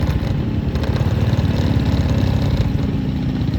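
A motorcycle engine runs loud and close in a steady, unbroken drone with a low throbbing rumble, heard alone on a rural road ride.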